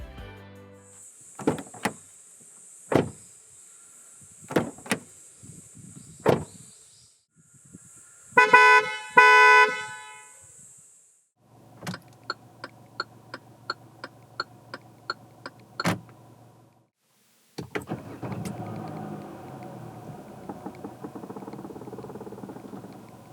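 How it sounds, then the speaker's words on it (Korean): A series of 2019 Hyundai Elantra 1.6 sounds: sharp clicks and thunks, a chiming alert, repeated electronic beeps, then a whirring motor, all close and clear with no talking. "잠시 신형 아반떼가 들려주는 감성 측면의 소리를 들어볼까요?"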